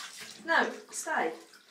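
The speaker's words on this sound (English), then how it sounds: "Right, on comes the shower." A shower runs during a pet's bath, a hissing spray of water under a person's voice, which rises and falls over the stream.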